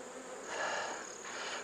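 Honey bees buzzing around hive frames at season's end, a steady close insect drone that swells and eases slightly, with no talk.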